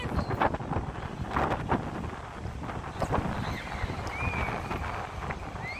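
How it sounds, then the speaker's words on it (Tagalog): Strong wind buffets the microphone in continuous rumbling gusts at night in Doha's West Bay, with a faint whistling tone and distant activity in the background. "Grabe ang hangin."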